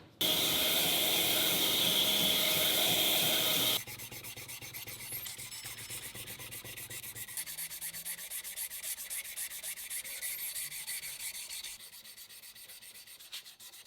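Sanding of a glued axe handle: a loud, dense, steady scraping hiss for about four seconds, then a quieter continuing rasp with no voices.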